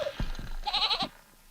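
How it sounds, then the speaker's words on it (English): A goat bleats once at close range, a quavering nasal cry lasting about half a second, preceded by a few soft thumps and followed by quiet room noise. "Is that a goat? That was a goat."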